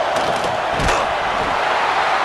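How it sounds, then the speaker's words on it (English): The home crowd roars in a College Football 26 simulation of Penn State versus UCLA on a third-down defensive stand, a loud continuous wash of stadium noise with a brief thud midway. "Here comes this home crowd as the defense tries to get off the field on 3rd down"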